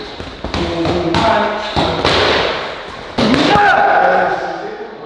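Right-hand punches landing on boxing pads during a professional boxer's training session, giving several sharp, loud thuds in an irregular rhythm close up, with a coach talking between strikes.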